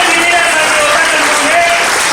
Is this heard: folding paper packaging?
no